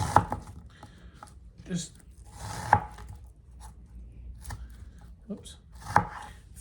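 A knife slices onions on a cutting board into pieces about half an inch thick, several distinct chops spaced about a second apart, close and crisp, with a person talking between cuts.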